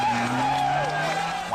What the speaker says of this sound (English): here is footage from a rally car race gone terribly wrong